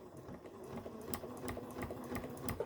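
A sewing machine stitches a fabric seahorse plush, a soft, steady mechanical whir with faint rhythmic ticks running throughout, low in level and close by.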